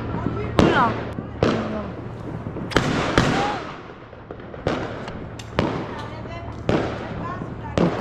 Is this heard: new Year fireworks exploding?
yes